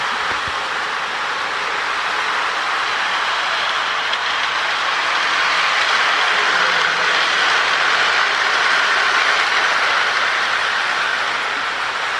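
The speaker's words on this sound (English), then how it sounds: "it's a great running engine and great running little diesel" A restored Lionel Alco toy diesel engine with magnetraction runs along its track with a continuous close rushing whir and rail rumble. It stays loud and even throughout.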